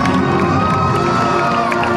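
A children's race trophy ceremony crowd cheers and shouts with applause, loud and continuous, with children's voices prominent.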